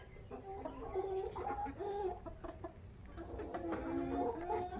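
Young backyard chickens, grown from chicks, cluck and chatter in low, deepening voices, a steady close run of calls alone with no talk.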